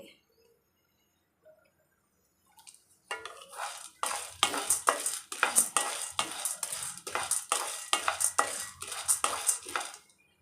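Chana dal being stirred and roasted in a pan with oil for idli podi, a steady run of scraping, rattling strokes that starts after a quiet opening and continues near and fairly loud.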